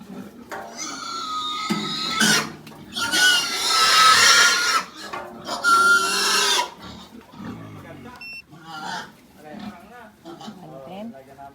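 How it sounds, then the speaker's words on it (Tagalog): Pigs, young gilts, on a farm squeal loudly and oink in piercing bursts close by, with grunts in between, while people talk over and around them. "Yung mga baboy dito."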